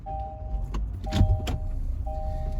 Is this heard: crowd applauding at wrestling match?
no